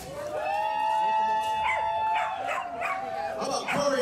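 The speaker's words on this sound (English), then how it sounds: "I heard the dog cheering when my name was said." A dog at a live tribute band concert in Austin, Texas, yips and howls in a drawn-out, wavering cry, close and moderately loud over the crowd's background noise.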